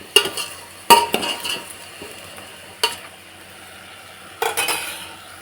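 Vegetables sizzle in hot oil for cowpea sambar while a metal spoon scrapes and stirs the pan, with several distinct clanks against the vessel breaking up the steady frying hiss.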